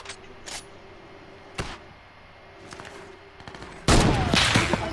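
Heavy sniper rifles fire in a competitive shooter video game scrim: several sharp, spaced gunshots, then a louder sustained burst of fire near the end, with no talking.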